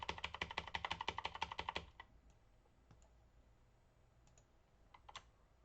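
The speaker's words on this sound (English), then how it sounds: "while typing the letter A" Rapid, even keystrokes on a computer keyboard, repeatedly typing the letter A, clatter close and steady for about two seconds, then stop, leaving faint room hum with a few isolated clicks.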